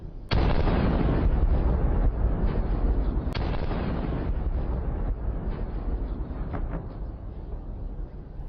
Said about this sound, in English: Explosion after explosion continued to occur.